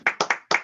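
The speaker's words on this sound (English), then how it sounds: "You can go ahead and unmute and applaud" Four quick, separate hand claps from a small online audience, sharp and close, spaced unevenly over under a second with no voices.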